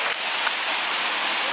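A waterfall pours in a steady, loud broadband hiss of rushing water, close and unbroken.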